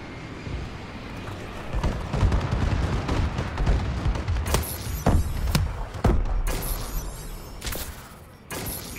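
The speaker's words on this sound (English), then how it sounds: "Friendly bombing run incoming." A friendly bombing run in a multiplayer shooter game sets off a continuous rumble of heavy explosions and gunfire, with sharper blasts cracking through in the second half.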